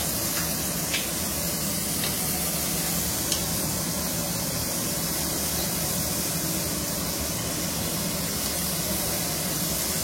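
Paneer roasts on a hot tawa, giving a loud, dense, continuous hiss and sizzle that holds steady from start to finish with no voices.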